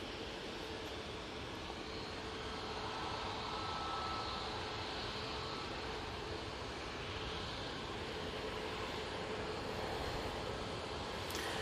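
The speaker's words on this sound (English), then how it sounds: "Here goes the Max. I'm going to say this is a Ryanair Max." A Ryanair Boeing 737 Max airliner takes off at Manchester Airport, a distant, faint, steady broadband roar of jet engines that holds evenly throughout.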